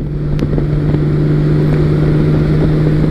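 A Honda Valkyrie motorcycle engine hums steadily while riding in 5th gear, a loud, smooth drone under continuous wind rush across the microphone, with no pauses.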